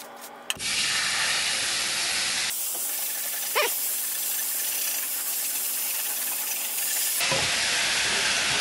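Water poured into a hot skillet of brown gravy sets off a loud, sustained steam hiss that surges at the start, holds steady for several seconds, then shifts as the sizzle settles.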